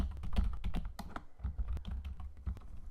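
Typing on a computer keyboard while laying out an educational prewriting page, with close, irregular clicks and taps in quick bursts and brief pauses, and no voices.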